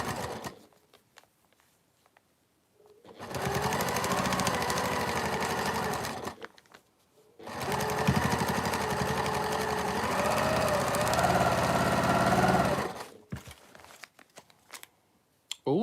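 A sewing machine stitches quilt seams on a Christmas wall hanging in two long, steady runs of about three and five seconds, separated by a short pause, with quiet gaps before and after.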